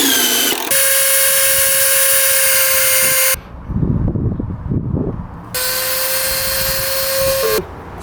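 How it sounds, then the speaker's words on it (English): A power drill drives screws down into a deck in two long, loud, steady whines, with a short gap of clunking handling noise between them and the motor pitch dipping as each run ends. "I'm going to place it in place and then drill it down."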